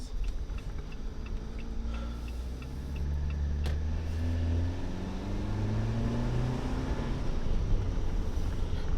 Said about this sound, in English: we're driving up to Harrisburg Park